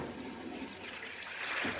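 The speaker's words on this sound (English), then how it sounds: "it's draining out that water from" A restored vintage washing machine drains its water in a steady rushing, gurgling flow, quiet and continuous, with no voices.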